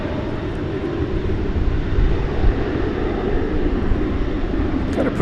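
An airplane taking off at DFW Airport at night, heard as a loud, steady low jet-engine roar that holds and swells slightly, distant but powerful, with no talk.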